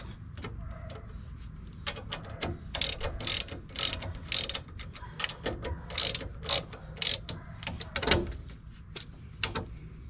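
Ratcheting clicks in rapid bursts while a bolt is tightened on a GoWesty rear disc brake kit being installed on a 1974 Volkswagen Westfalia, close and fairly loud, with a low steady hum underneath.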